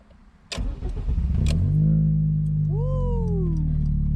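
A Honda Type R engine starts: two sharp clicks, a brief crank, then the engine catches and settles into a loud, steady idle with a rising whine.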